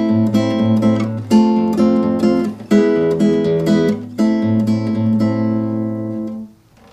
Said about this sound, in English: the rhythm of the bambuco would sound like this.